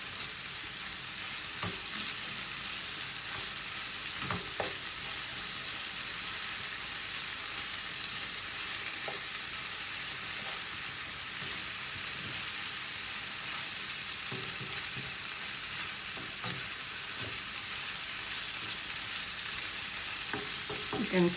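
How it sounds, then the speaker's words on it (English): Steady sizzling of chicken pieces frying in a pan with coriander for Anglo-Indian chicken curry, with occasional scraping clinks of stirring throughout. "You can see it's frying well."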